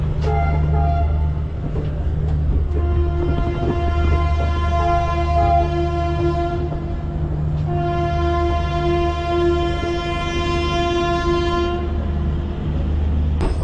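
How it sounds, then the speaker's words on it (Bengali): The Shalimar to Puri Garib Rath Express passenger train rumbles loudly and steadily along the tracks, with long, sustained horn-like tones sounding twice over the heavy rolling noise. "কাটায় 8:40 আমাদের ট্রেন ছেড়ে দিল"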